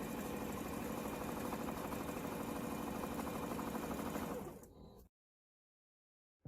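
A sewing machine stitches a quarter-inch seam through polyester quilt fabric for a brick quilt, its motor whirring in a steady, close, continuous run for about five seconds before stopping abruptly into silence.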